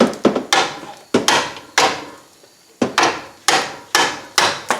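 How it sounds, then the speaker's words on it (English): Metal clip on a 2010 Nissan Altima front strut being pried and popped off, heard as a run of sharp close knocks and clacks in irregular bursts with a brief pause midway. "Try to get in here and just pop this clip off."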